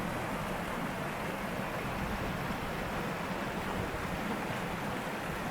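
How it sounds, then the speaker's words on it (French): Water from an overflowing forest pond cascades downhill toward a valley, a continuous broadband rushing roar at close range, steady and unbroken with no voices. "il y a une mare forestière qui est tellement pleine qu'elle déborde de partout"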